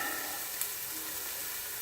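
A steady, even sizzle of food frying in a hot pan, a continuous soft hiss with no breaks, heard up close.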